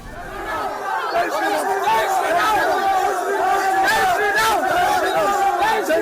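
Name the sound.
crowd chatter at an event for Narendra Modi in the UAE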